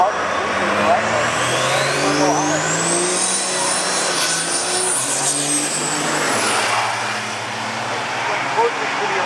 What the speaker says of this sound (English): First up is Nick Addison in the left lane on the MBRP side with the Bullydog truck.